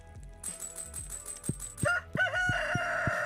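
A rooster crows in Stardew Valley, a loud, clear cock-a-doodle-doo over steady game music and light plucked notes, sounding once through the middle of the stretch.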